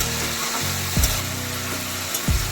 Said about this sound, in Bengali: এভাবে সমস্ত কিছু দিয়ে মোটামুটি 3 থেকে 4 মিনিট নাড়াচাড়া করে দিতে হবে